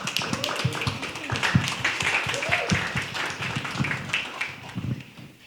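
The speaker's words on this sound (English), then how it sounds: "give yourselves a big round of applause" A small group at a community student health survey discussion gives a round of applause, individual claps clearly separable in an uneven patter, close and moderately loud, with a voice briefly heard partway through.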